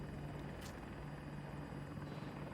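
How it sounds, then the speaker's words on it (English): An enemy helicopter in Battlefield 2042 thrums with a steady, rapid rotor chop over a low engine drone, faint and continuous with no speech. "Enemy helicopter spotted."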